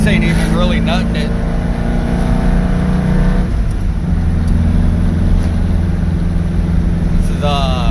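A quick Volkswagen Baja with a 2276 engine and Weber IDF 48 carburetors revs and accelerates, its note climbing and dropping through gear changes in a loud, close, continuous roar, with someone talking over it.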